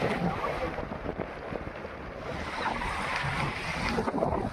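Sea waves and wind on Porbandar Chopati beach around sunset make a steady, loud broadband roar, with gusts buffeting the microphone throughout.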